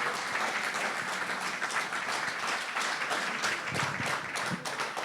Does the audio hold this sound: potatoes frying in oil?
no